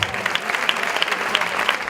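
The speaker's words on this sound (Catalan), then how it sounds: "Un aplaudiment." A room full of people claps steadily, brisk applause with no break from start to finish.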